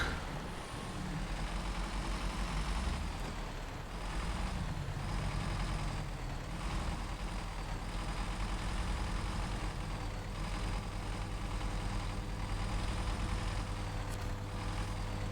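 Heavy truck engine in the Snowrunner video game, set in North Port, Alaska, droning steadily and loudly as the truck turns, with slight swells in the rumble and no talking.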